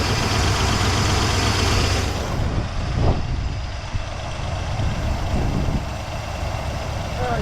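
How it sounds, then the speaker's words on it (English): A Cadillac DeVille engine idling with a rough, raspy puffing from an exhaust leak, steady and close, with a few faint knocks over the drone. "a lot of what you're hearing, gang, is there's an exhaust leak down here"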